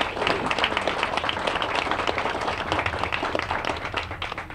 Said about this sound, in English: Wendy, please stand for a round of applause.